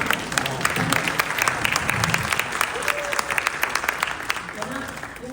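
Congregation applauding during a church service, a steady dense wash of many hands clapping throughout, with a voice speaking over it.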